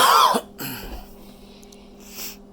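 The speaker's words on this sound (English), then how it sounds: "And that's also who's coughing." One harsh cough close by, then quieter breathing and soft throat sounds.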